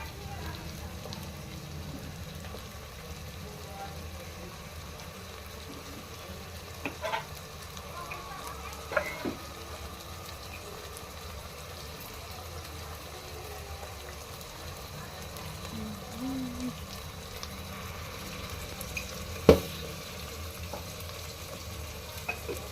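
Masala paste frying in a pan for coconut pulao gives a soft, steady sizzle throughout, broken by a few sharp clinks of a spoon stirring against the pan, with quiet talking in the background.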